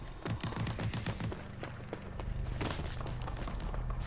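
Minigun cannon fire in the Rogue Company video game, a sustained rapid rattling burst that runs continuously for several seconds, fairly faint within a busy mix of other game sounds.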